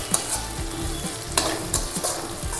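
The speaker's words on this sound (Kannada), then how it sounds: "ಕ್ಯಾಪ್ಸಿಕಮ್ನು ಸ್ವಲ್ಪ ಚೆನ್ನಾಗಿ ಬಾಡಿಸ್ಕೊಳ್ಳೋಣ." Capsicum sautéing in a pan for a hotel-style white kurma, with a steady close sizzle and repeated scraping stir strokes; no talking.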